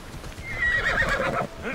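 Horse in Assassin's Creed Odyssey whinnying in a short, bright rising neigh, close and clear, with faint hoof clops beneath.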